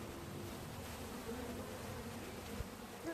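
A honey bee swarm hums softly, a faint continuous buzzing drone outdoors with a brief thump near the end.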